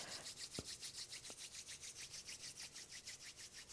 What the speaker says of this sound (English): start to rub the palms of the hands together